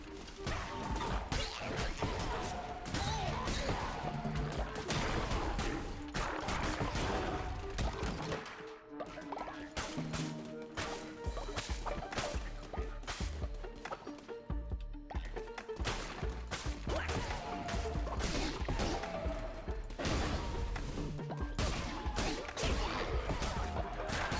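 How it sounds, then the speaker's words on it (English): Enemies in Cult of the Lamb dropping bombs that explode as they die, rapid sharp cracks, smashes and whacks stacking densely over constant game music, loud and busy with barely a pause. "Does that mean they'll explode when they die? Yeah, oh, they'll drop a bomb."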